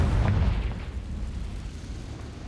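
Fire spell explosion in the Hogwarts Legacy video game: a single low, rumbling boom that bursts at the start and then decays into a long, dull roar, with no voices.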